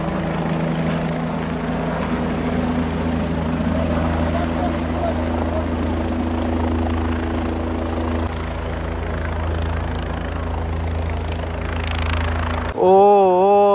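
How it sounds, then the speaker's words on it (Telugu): A helicopter flies over Kedarnath temple during the temple opening ceremony, showering flowers on pilgrims; its loud, steady rotor and engine drone fills the air, and a sharp warbling tone cuts in at the very end. "మళ్ళీ హెలికాప్టర్ వెళ్తుంది, పూల వర్షం కురిపేస్తుంది"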